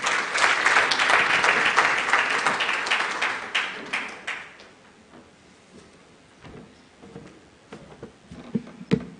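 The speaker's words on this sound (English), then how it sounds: "Can we clap hands for Norman?" Audience applause at the Rwanda Internet Governance Forum 2022, a dense round of clapping that fades after about four seconds into scattered claps and room noise.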